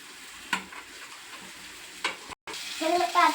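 Pasta dropped into a pan and stirred in a home kitchen, with soft clatters and scraping followed by a rising sizzle, close and moderately loud, no talking.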